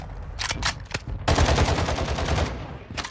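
Rapid automatic gunfire in Call of Duty Warzone 2, with a few short bursts followed by a long sustained loud burst of shots, then one more brief burst at the end.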